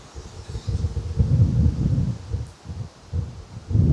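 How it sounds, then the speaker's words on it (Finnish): Gusty wind rustles leaves nearby at a lean-to shelter by Pääjärvi lake in Tervakoski, swelling and easing in uneven waves with low rumbling buffets on the microphone. "tuuli käy"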